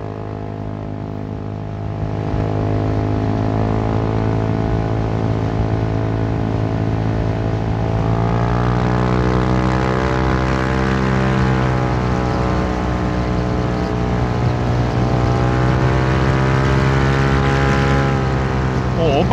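Honda Forza 350 scooter with a loud aftermarket exhaust revving, a steady, loud, droning engine note that rises after a quieter start and holds for the whole stretch.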